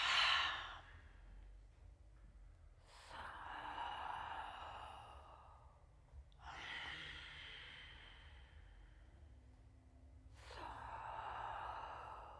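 Slow, audible breaths during a hatha yoga and meditation session, long soft airy exhales and inhales repeating about every three to four seconds, close and alone.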